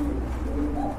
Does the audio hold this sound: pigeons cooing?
yes